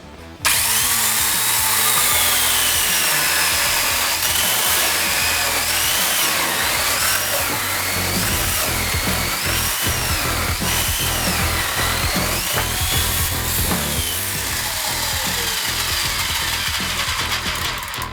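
A YamaMoto electric chainsaw bites through four wooden beams stacked together, its motor whining loudly and continuously while the chain rasps and chatters through the wood for the whole stretch, with no talking.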